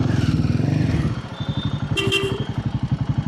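Motorcycle engine riding through city streets, a steady pulsing exhaust thump that shifts rhythm partway through, close and loud with brief traffic clatter in the background.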